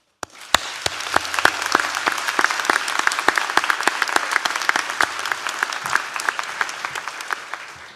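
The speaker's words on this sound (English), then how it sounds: "Can we all give a big round of applause to our lecturers and teaching staff?" Audience at a university graduation ceremony in Derry-Londonderry applauding, a loud, sustained wash of many hands clapping with sharp individual claps standing out throughout.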